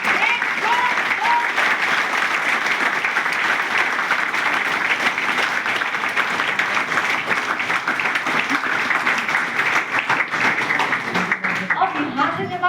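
Sustained applause from a seminar audience in Haridwar, a dense steady patter of many hands clapping that fills the room loudly for over twelve seconds before thinning out at the end.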